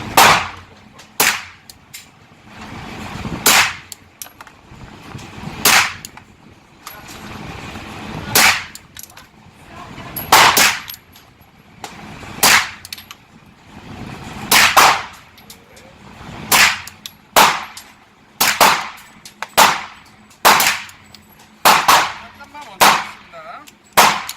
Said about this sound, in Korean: 글락에서 나온 33발짜리 탄창으로 지금 쏘고 있습니다